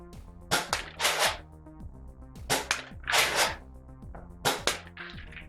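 Star Wars First Order Deluxe Stormtrooper toy blaster firing X-Shot foam darts, loud snapping shots, some in quick pairs, with a bright whooshing burst after each volley, repeated three times.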